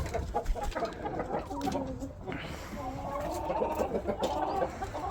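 Chickens cluck and murmur in a busy, noisy coop, overlapping calls at moderate volume with a constant background hubbub.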